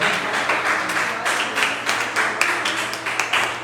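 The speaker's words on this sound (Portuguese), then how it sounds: "Aplauda o Senhor nessa manhã." A church congregation applauding, with a dense, steady patter of many hands clapping together at moderate volume.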